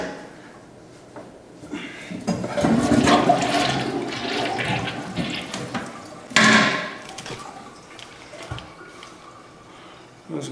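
A toilet flushing in a flooded warehouse washroom with a cracked tank, water rushing and gurgling as it backs up, then a second surge partway through, with faint knocks and drips after.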